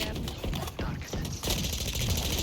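Rapid gunfire in the tactical shooter Valorant, a burst of sharp cracking shots in quick succession over game ambience, with a player talking over part of it.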